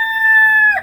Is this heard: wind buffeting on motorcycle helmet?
no